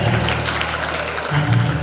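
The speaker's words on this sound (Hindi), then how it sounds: "एक बार छड़ीदार के लिए जोरदार तालियां हो जाए" An audience at a staged religious play gives dense, continuous applause for the mace-bearer character, loud and close throughout, with a low musical hum underneath.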